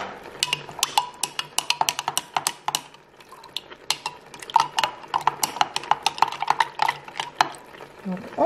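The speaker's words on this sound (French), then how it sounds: "Donc on mélange bien" A food mixture being stirred in a bowl or pot during quick meal prep, a rapid run of sharp clinking scrapes and taps from a utensil, briefly pausing before resuming steadily.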